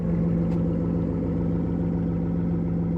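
A sports car with an X-pipe exhaust, flaps held open, idles with a deep, throbbing exhaust burble, steady and loud at close range, no talking.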